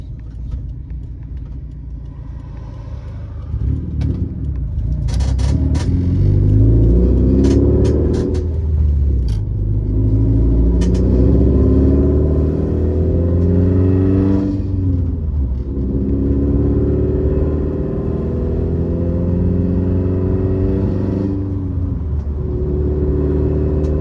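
Subaru WRX STI (VA generation) with an external wastegate cruising calmly on the road, steady engine rumble and road noise throughout with mild swells of acceleration, close and continuous with no talk.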